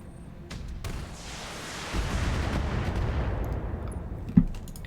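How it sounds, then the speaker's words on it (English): A Warhammer mech fires its weapons in the BattleTech video game, producing a long rumbling, roaring barrage that swells and fades over several seconds, capped by a sharp impact thump near the end. "we've only really got the Warhammer shooting at us"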